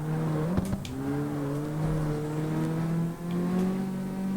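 Sustained engine drone of a car in the CarX Street racing game, a steady revving tone with slight pitch shifts as it slides through a drift, loud and continuous with brief clicks.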